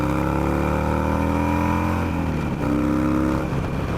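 Harley Sportster with a frame-mounted fairing accelerating on the freeway: a loud, continuous engine drone with rising harmonic tones, steady rumble and wind throughout, close to the rider, no talk.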